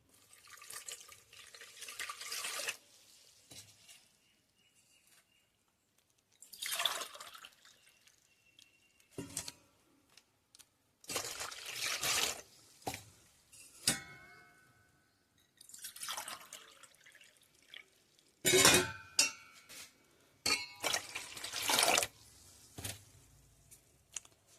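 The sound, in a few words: water being poured into a vessel for rye porridge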